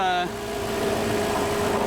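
A car's power steering pump whines steadily while the engine idles nearby, a continuous close mechanical drone with a high tonal whine layered over a low hum.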